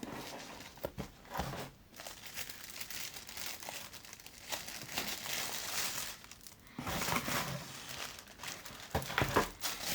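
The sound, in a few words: unwrapping green tissue paper from Easter box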